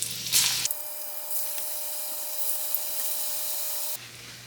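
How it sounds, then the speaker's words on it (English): Plantain patacones sizzle in hot oil during their second fry, a steady, bright crackle that holds evenly for about three seconds after a brief onset. "You need to fry this a second time."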